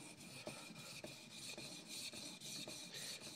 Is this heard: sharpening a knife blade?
yes